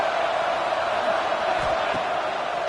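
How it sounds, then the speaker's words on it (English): A football stadium crowd roars in a steady, dense wall of cheering ahead of a big third down, loud and continuous throughout with no pauses. "this crowd is ready"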